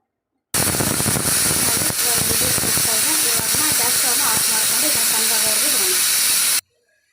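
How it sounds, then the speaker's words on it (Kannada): A loud, continuous hiss of escaping steam with a shrill whistle from a pressure cooker cooking kushka rice, steady for several seconds before stopping abruptly. "ಇದನ್ನು ಒಂದು ವಿಸಿಲ್ ಕೂಗಿಸೋವರೆಗೂ ಬೇಯಿಸ್ಕೊಳ್ಳೋಣ"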